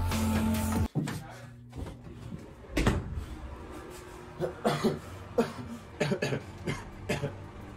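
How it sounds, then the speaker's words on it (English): Several harsh coughs and throat sounds break out irregularly, one sharp burst after another, close by, with faint background noise. "No coughing. Stop."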